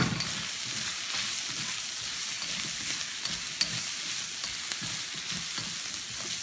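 Vegetables with jicama stir-frying on high heat in a pan, a steady bright sizzle with light scraping and stirring throughout, close and even in loudness, no talking.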